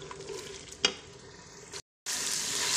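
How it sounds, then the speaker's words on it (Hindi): Ginger paste and tomato paste masala frying in a pan for chicken, a steady close sizzle with a brief stirring scrape, a short silent break, then the frying resumes louder. "अब हम इसको अच्छी तरह से भून लेंगे।"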